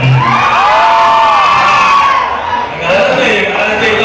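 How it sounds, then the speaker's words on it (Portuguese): A crowd of women at a live music show in Nereu Ramos cheers and shouts in a loud, sustained roar of high voices, with a brief dip near the end before rising again. "Quero ver o grito da mulherada aí, então."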